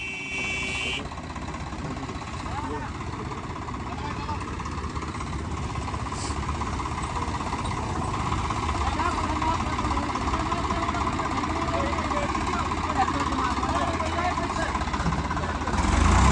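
A Swaraj tractor engine idles steadily with a low rumbling drone throughout, with no other sounds standing out.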